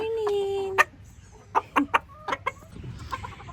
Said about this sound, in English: There are so many chickens in here